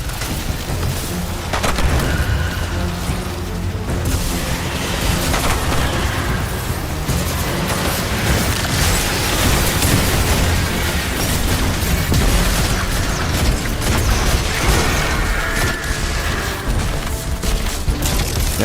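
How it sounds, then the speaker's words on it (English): Loud explosions boom repeatedly in the video game Destiny 2, dense overlapping blasts and bursts of combat noise that run without pause. "Yeah, they explode."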